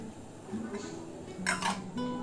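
A metal lid clinks down onto a pot of spiced masala for mutton curry, a couple of brief, fairly quiet clatters in the middle, with soft kitchen noise around them.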